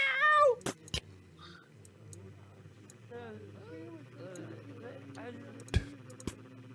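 A cat in the video game Hidden Folks gives a few short meows along with faint clicks and clatters. A person's voice also joins in with meow-like sounds, imitating the cat.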